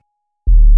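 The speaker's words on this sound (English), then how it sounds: "Very low bass drop." A very low bass drop test sound from a TDK D cassette, a deep, loud rumbling tone that starts abruptly after near silence and holds steady.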